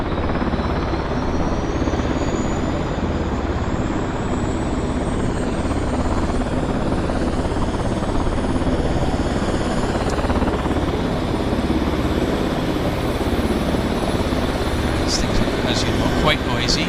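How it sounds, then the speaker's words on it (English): Beech 1900 twin turboprop engines running on the ground during a maintenance check at Vancouver Airport, a loud continuous roar with rising whine throughout. "I think they're going to run the engines on this Beech 1900"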